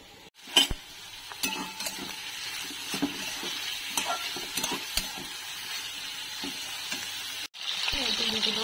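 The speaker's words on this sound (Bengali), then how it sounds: "এই বেরেস্তার জন্য পেঁয়াজটা কেটে রেখেছি, এখন ভাজবো।" Sliced onions fry in oil for birista, the crisp fried onion topping for egg biryani, a soft close sizzle with stirring scrapes and scattered clicks of a utensil, briefly cut near the end before resuming.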